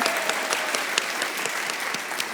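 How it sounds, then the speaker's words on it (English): Audience applauding and cheering for Bradley Walsh at a live comedy podcast show, a dense steady wash of clapping from a large crowd filling the room. "Give him a big cheer."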